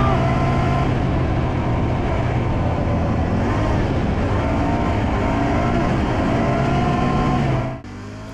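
Can-Am Outlander 570 XMR ATV ridden in sport mode, a steady loud engine hum with wind and terrain noise, ending in an abrupt cut near the end.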